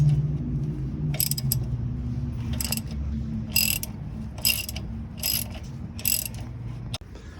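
A ratchet loosens a brake caliper bolt on a 2002 GMC Yukon during a wheel hub replacement, with several bursts of rapid clicking repeated at a steady pace over a low hum, close up.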